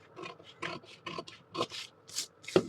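Scissors cutting blouse fabric along a gentle curve while shaping a princess cut blouse, heard as a close series of about eight short rasping snips in an uneven rhythm.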